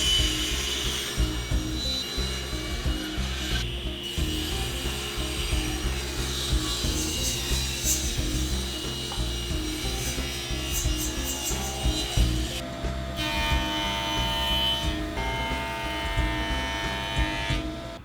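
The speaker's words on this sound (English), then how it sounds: "I'm going to straighten one edge at the joiner, and then I'll rip it to rough width at the table saw." In a woodworking shop, a jointer straightens a board edge and then a table saw rips it to width, with steady close mechanical rubbing and cutting noise and a change in tone partway through.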